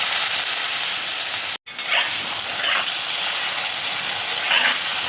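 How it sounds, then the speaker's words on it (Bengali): Potatoes sizzling in hot oil in a wok for a potato raita, a steady close frying hiss after a brief silence, with a few louder surges as the pieces settle. "কড়াইয়ে দেখো তেল দিয়েছি, এবার আমি আলুটা দেখো তেলের মধ্যে দিয়ে দিচ্ছি।"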